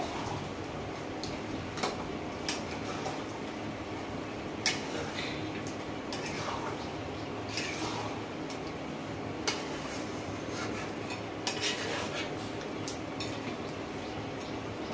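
Cooked mutton stirred with chopped coriander in a pan, heard as steady close scraping and ticking clinks of a spatula against metal over a constant sizzle-like hiss.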